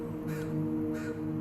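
Crows give harsh scold calls, two loud rasping caws about half a second apart, sounding fairly close over a steady background hum.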